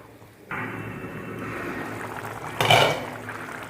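Half a small glass of water goes into chicken cooking in a pan for pudina chicken, and a sudden hiss and sizzle sets in, followed by a brief louder splash and pour burst, close and clear, with no talk.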